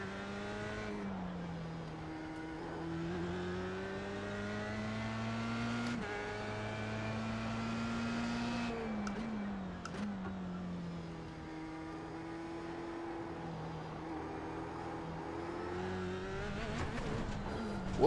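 Formula race car engine in the iRacing sim, a high revving whine rising and dropping through gear changes and braking, steady and close throughout with no talk.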